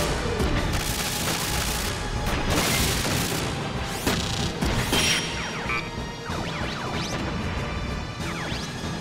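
A double shot combo attack in Front Mission 3 plays out as a dense run of crashing, splintering impacts and mechanical gunfire bursts, loud and continuous over nine seconds with no voices.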